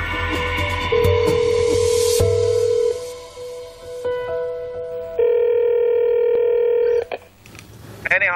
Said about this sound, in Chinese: 打电话。